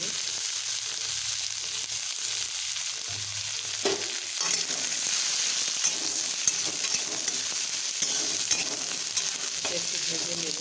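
Leftover rice with red and green chillies frying in a little oil, a steady close sizzle and crackle with occasional stirring scrapes throughout, no voices.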